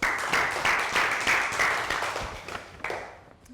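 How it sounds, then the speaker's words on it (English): A small class of children claps in a round of applause after a tongue-twister exercise, a dense patter of hand claps that starts strong and fades out near the end. "Round of applause."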